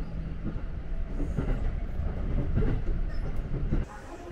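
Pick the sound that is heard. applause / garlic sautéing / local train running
local train running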